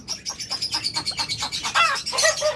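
Pet birds chirp and tweet in quick, rapid bursts, bright and close, with the chirping growing busier and louder toward the end.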